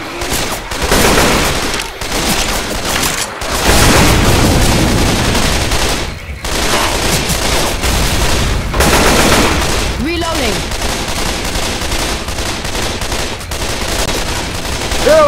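Rapid bursts of assault rifle fire in the zombie shooter Left 4 Dead 2, loud and dense, layered with booms and other weapons over most of the stretch, with brief in-game voice callouts mixed in.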